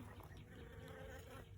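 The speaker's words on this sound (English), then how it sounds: "Man, you hear those drones buzzing." Honeybee drones buzz steadily inside a hive, a dense, continuous droning hum heard close up without pause.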